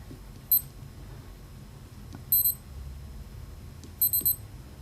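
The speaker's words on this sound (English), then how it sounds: "if you hear 3 beeps, it's barometer temperature" A Casio G-Shock Rangeman GW-9400 watch gives short, thin electronic beeps in separate bursts, with the last a quick run of three, faint and close over quiet room tone.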